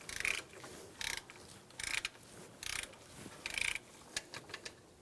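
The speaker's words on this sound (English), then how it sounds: "Using a 14mm socket, loosen the top bolt for the alternator." A ratchet fitted with a 14mm socket loosens an alternator bolt on a 2005-2015 Toyota Tacoma 2.7L I4, producing four quick, close clicking bursts followed by a few lighter ticks.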